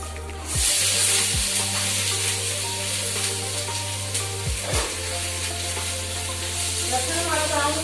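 Garlic frying in a pan on a home kitchen stove, a steady close sizzle with occasional stirring scrapes and a low hum underneath throughout.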